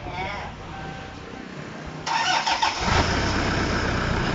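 A car engine with a newly replaced engine cranks and turns over, then catches and runs at a steady idle, with a voice speaking briefly beforehand.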